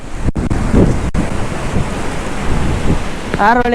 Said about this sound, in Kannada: ಓಹೋ ಗಾಳಿ ನೋಡಿ, ಮರ ಯಾವ ರೀತಿ ಆಡ್ತಾ ಇದೆ ಅಂತ.